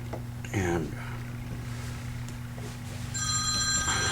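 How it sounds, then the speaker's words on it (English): A telephone rings indoors near the end, a bright repeating electronic trill over a steady low hum, with a short stretch of talk earlier. "I hear the phone ringing"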